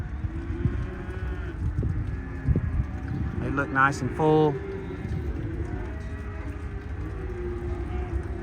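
Cattle and bull calves low and moo at a livestock sale barn, with a clear close call in the middle over a steady murmur of pen noise, while someone talks nearby.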